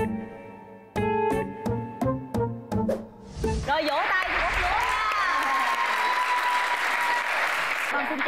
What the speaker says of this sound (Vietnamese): Rồi vỗ tay cho Úp Lúa nha.